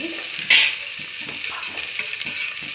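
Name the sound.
oil sizzling while frying onions in a pan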